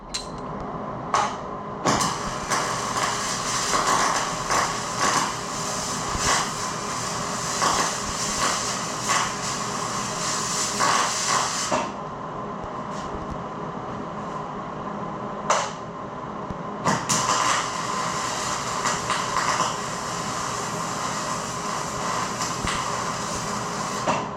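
A welder buzzes and crackles steadily while welding parts for a micro camper build, a long dense sputtering hiss broken by a few short pauses, close and loud with no talking.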